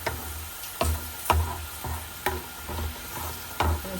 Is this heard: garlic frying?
yes